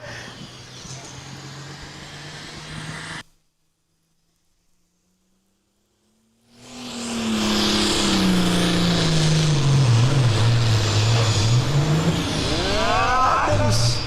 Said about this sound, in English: Steve Aldhouse out of Sublette, Illinois, going to be our first puller with a John Deere 4455.